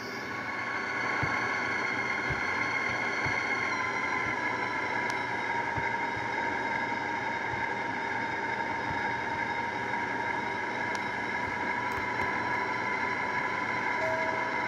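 A Gillig Advantage city transit bus, RTD #635, drives with its engine holding a steady, continuous drone and whine that never drops away.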